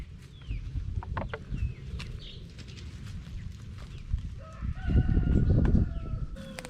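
Chickens cluck and crow nearby in a farmyard, with low rustling and shuffling underneath and a louder burst of movement toward the end.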